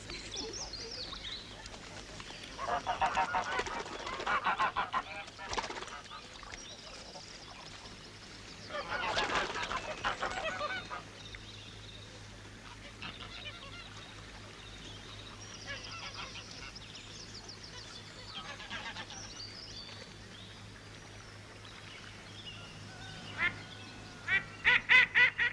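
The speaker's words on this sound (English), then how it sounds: "Gotta feed the geese, Billy." Geese honking in several scattered bursts, moderately close, separated by quieter stretches of low steady background hum, with a sharper cluster of calls near the end.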